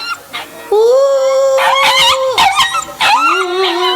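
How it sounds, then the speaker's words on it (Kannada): A dog howls at night in a village, loud and close, with long wavering rising cries broken by short yips and whimpers. "ನಾಯಿ ಯಾಕೋ ಒಳಾಕತ್ತೈತಿ"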